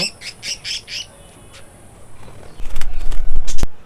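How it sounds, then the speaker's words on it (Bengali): Budgerigars give a quick run of sharp, close squawks as they are released from a rooftop, followed by rustling, handling noise and a few heavier thumps near the end. "এই পাখিগুলোকে খোলা আকাশে মুক্ত করে দিব আমি একটা পাখি হাতে ধরেছি এটাকে আমি এখন ছেড়ে দেব"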